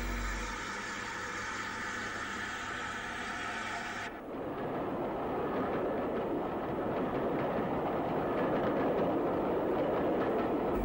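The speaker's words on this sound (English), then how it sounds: "At Wareham, the Swanage branch train waits in the bay with a standard 264 tank" A Swanage branch train headed by a British Railways Standard class tank engine stands in the bay platform at Wareham. A steady mechanical hum gives way after a few seconds to a loud, broad rumble that continues to the end, with no talk.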